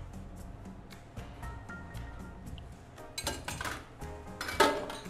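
A metal bar spoon clinks against the inside wall of a cocktail glass as vermouth is poured, light close chinks at first, then a busier cluster of glassy rattles and clatter.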